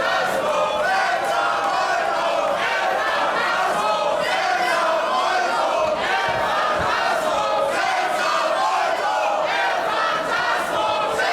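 A packed wrestling crowd at Huxley's in Berlin roars for El Phantasmo against Senza Volto, a France-versus-Canada match, with loud, continuous cheering and chanting split between both sides, swelling in waves and never dropping away.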